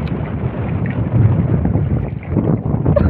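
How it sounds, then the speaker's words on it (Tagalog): Strong wind blows at sea on a small fishing boat riding growing waves, a loud, continuous roar buffeting the microphone throughout. "Grabe yung hangin mga idol."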